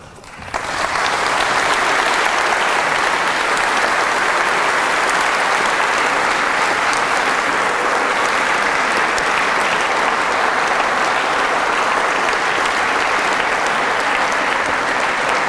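Loud, sustained audience applause fills a Southampton Guildhall hall after a lecture on the evidence for Jesus's resurrection, a dense, even clapping that holds steady for about fifteen seconds with no voices over it.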